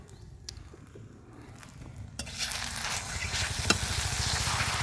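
Rice flour dough being stirred in hot ghee in a wok, with a steady close sizzle and frying crackle that grows louder and denser partway through as the spatula scrapes and turns the mixture.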